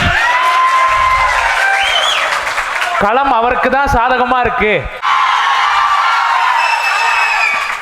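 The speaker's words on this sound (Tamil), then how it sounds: "கீழே இருந்து கரகோஷம் வருது" Audience at a political debate stage in Puducherry applauding and cheering loudly, a dense wash of clapping and shouts with whoops; someone speaks over the crowd near the start and end.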